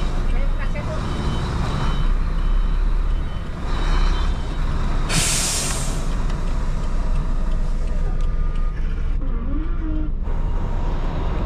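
A large truck idles and maneuvers nearby with a low, continuous engine rumble, broken by a sharp hiss of released air brakes, while people talk over it.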